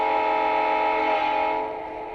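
A small model train horn sounds one sustained, reedy blast at close range, then fades slightly at the end.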